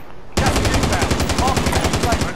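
Rapid automatic gunfire in Call of Duty: Modern Warfare, a loud sustained burst of evenly spaced shots starting abruptly after a brief pause and continuing to the end.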